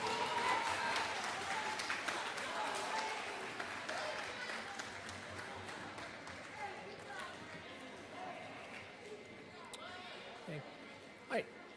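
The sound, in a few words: audience applause for award winners at school ceremony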